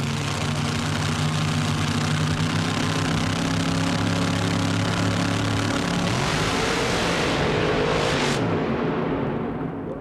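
Monster Jam monster trucks on a drag run at full throttle, a loud sustained engine roar with steady low harmonics that shift pitch near the end as the trucks come off the throttle, with arena crowd noise mixed in.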